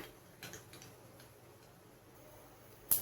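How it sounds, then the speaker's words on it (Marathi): Mustard seeds crackle in hot oil in a kadai on a gas stove, giving a few faint, sparse ticks and pops spread over a quiet background, with one sharper pop near the end. "राई बघा चांगली तडतडलेली आहे।"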